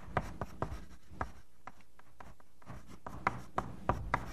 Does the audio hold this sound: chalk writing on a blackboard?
yes